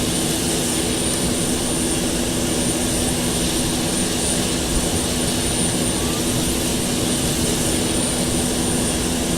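A Boeing 767 jet engine in the FSX flight simulator spools up with a steady whining turbine tone and broad roar, holding loud and constant throughout.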